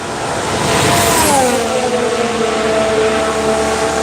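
Formula One car at a Barcelona test revving loudly for a practice start, a sustained high engine note sweeping down in pitch, heard from nearby behind a pit wall.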